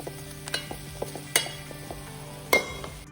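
Jaggery melting into syrup in a pan for a Konkani cashew sweet, a soft continuous sizzle with a spoon stirring and scraping, sharp clinks against the pan at irregular intervals.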